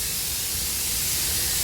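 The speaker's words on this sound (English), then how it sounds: "can you believe this laundromat behind me steaming their clothes?" Steam hissing from a laundromat's clothes-steaming equipment, a loud, continuous broadband hiss that holds steady throughout, with no talk.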